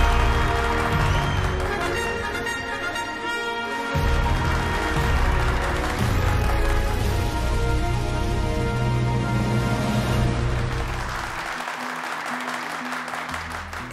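Sustained audience applause fills the hall at a women achievers awards ceremony as an honoree is called to the stage, dense steady clapping at full strength that thins slightly near the end.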